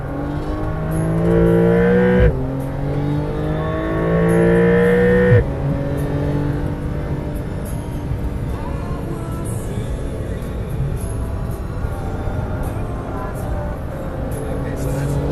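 A Porsche Carrera GTS Cabriolet on a track rolls through a U-turn, its engine revving up and easing off, rising and falling tones as it accelerates out of the turn, with people talking over it.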